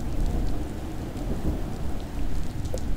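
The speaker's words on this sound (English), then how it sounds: "it's raining super hard and the quality is like super bad" Heavy rain and rolling thunder from a storm in the video game AI Shoujo, a steady loud wash of downpour with low rumbles throughout, no voices.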